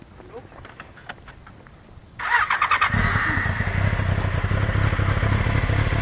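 A Yamaha motorcycle engine struggling to start, with the motor catching after a couple of seconds into a loud, rough, uneven idle, close to the listener; people talk briefly.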